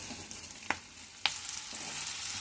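Stuffed bitter gourd sizzles steadily in oil in a pan, with a bright, hissing crackle throughout and two sharp utensil clicks breaking through the frying.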